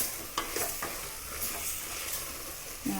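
Drumsticks roasting in a pan for mango sambar, a steady sizzle with a few scraping stirs and light clinks, close and continuous, without speech.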